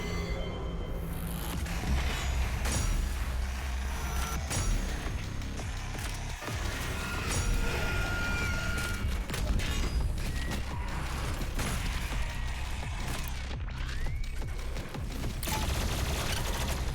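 Shooting in DOOM Eternal on PC makes a dense, continuous wash of gunfire and mechanical clatter amid game noise, loud and sustained throughout, with no speech on top.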